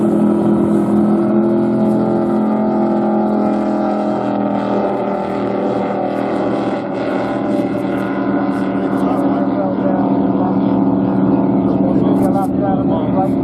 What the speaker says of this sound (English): this is sensational sounding boat